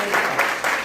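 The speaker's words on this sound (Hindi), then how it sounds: "जोरदार ताली बजाइए।" Audience at a student gathering clapping in a short burst of hand claps, loud and close, with uneven swells, over a brief moment of voices.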